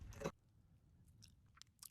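Someone chews a crunchy bite of food outdoors in a salt-covered desert valley, a loud crunch at the start followed by quieter scattered bites and crackles.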